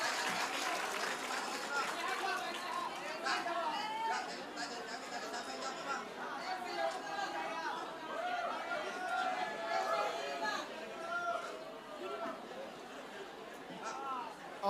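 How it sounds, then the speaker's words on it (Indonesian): Audience at an open question-and-answer forum in Pontianak giving a round of applause, the clapping spread through the hall and mixed with loud crowd chatter and murmuring voices. "Tepuk tangan dulu buat semuanya."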